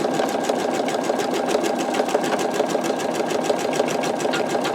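Embroidery machine stitching out a skull design, a steady fast mechanical whirring and rapid needle clatter at constant loudness, close up with no talking.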